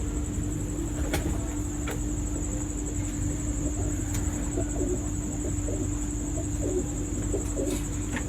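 Cooing of a fine-feathered high-flying pigeon, soft repeated coos over a steady outdoor background with a constant hum, no talking.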